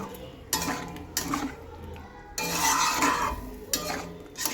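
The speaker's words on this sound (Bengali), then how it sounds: "ডালটা দিয়ে ভালো করে মশলা আর সবজির সঙ্গে কষিয়ে নেব" Dal with spices and vegetables being stirred and sautéed in a pot, giving bursts of scraping and clattering utensil strokes with soft sizzling between them, close and fairly quiet.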